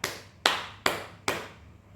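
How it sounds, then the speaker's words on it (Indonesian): Four evenly spaced, sharp hand claps, crisp and close with short decays, alone in a quiet room at a teaching session. "Biar lebih semangat, kita beri aplaus untuk kita semuanya."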